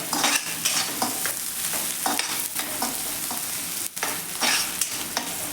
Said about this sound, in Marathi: आपण हा कांदा देखील छान असा असा तेलावरती परतून घेऊया